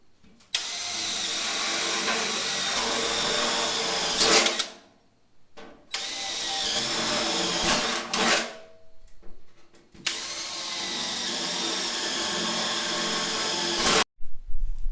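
A power tool cuts into the trunk floor sheet metal of a 1969 Chevy Nova in three long, loud, steady bursts. Each burst stops abruptly before the next begins, and there is no talking.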